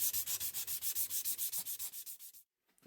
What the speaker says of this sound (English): That way the sandpaper won't rip in half as I'm sanding like this.